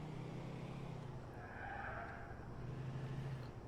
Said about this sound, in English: Quiet car engine sounds.